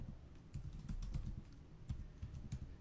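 Someone types a website address on a computer keyboard, a steady run of close, soft key clicks with a few louder taps, no voices.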